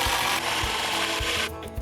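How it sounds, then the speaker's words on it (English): A screw is driven into a wooden form board for a stone retaining wall, with a steady grinding whir over rhythmic low thumps that stops abruptly near the end. The sound is close and fairly loud, with no talking. "I lock this screw in."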